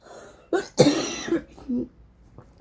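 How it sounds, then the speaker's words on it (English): One sharp, close cough comes out with a short throat-clearing burst. A few quieter breaths and small throat sounds follow. "excuse my cough"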